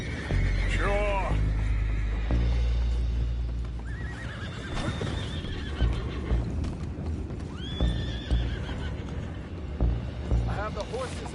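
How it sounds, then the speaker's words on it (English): Horses neigh and whinny repeatedly with clip-clopping hooves in Red Dead Redemption 2, aboard a boat scene with an anchor, loud and close alongside game dialogue and background noise. "Boys, go find out about those horses down below."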